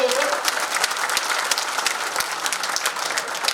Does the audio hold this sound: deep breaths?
no